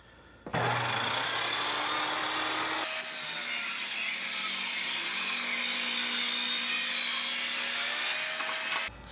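A power saw rips thin strips of scrap wood against a fence, a loud steady whine with grinding wood rasp that starts abruptly and runs continuously, the pitch shifting slightly midway as the cut continues.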